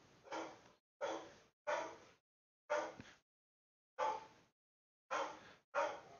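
A dog barks in short, evenly spaced single woofs, seven in about six seconds, heard fairly faint and somewhat distant indoors with silence between barks.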